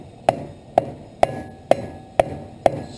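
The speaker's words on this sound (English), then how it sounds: "let me go grab a rubber mallet and make it a little bit easier" A rubber mallet taps a tight-fitting part onto hub splines on an old rail buggy, six evenly spaced, sharp knocks close by with short ringing decays and no talk.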